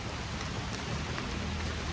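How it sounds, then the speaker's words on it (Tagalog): Rain falls in a steady, dense hiss with soft patter, continuous and even across the whole moment, with no voices. "Ulan-ulan siya."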